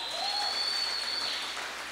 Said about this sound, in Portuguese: Uma salva de palmas para os meninos que venceram